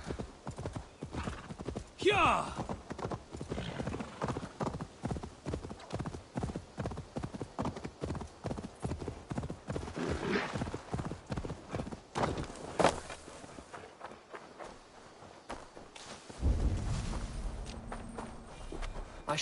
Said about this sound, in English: Get on the horse, bro.